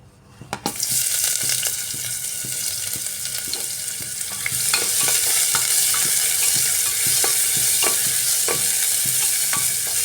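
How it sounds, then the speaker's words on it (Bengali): Chopped onions dropped into hot mustard oil, a sharp burst of sizzling that settles into a loud, continuous fry with repeated scraping stirs of a spatula close by. "তেলটা গরম হয়ে গেছে এবারের মধ্যে দিয়ে দিচ্ছি কেটে রাখা পেঁয়াজ"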